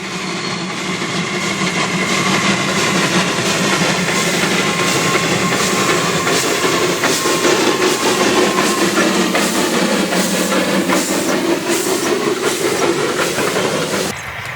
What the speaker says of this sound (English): The special magic possessed only by a steam train has cast its spell over generations of children